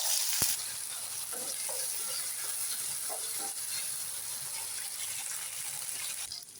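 Small shallots frying with curry leaves and dried chilies for a country chicken curry, a steady close sizzle with faint stirring scrapes and a brief clink near the start, no voices.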